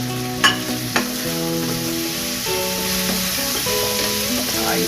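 Chili and saba bananas dropped into a pan of sizzling pork, with a couple of sharp clatters up front, then steady frying sizzle and stirring close by.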